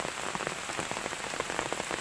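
Steady rain patters on surfaces in a dense, even hiss, with scattered close drops ticking through it.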